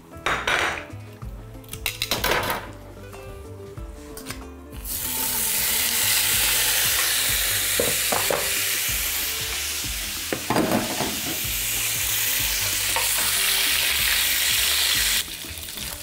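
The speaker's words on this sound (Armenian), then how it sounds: "նրանցով համեմված յուղի մեջ տապակում ենք խոզի մարինացված" Marinated pork frying in spiced oil in a pan: pots and cutlery clatter first, then a loud, dense, continuous sizzle that fills the rest, with occasional stirring scrapes.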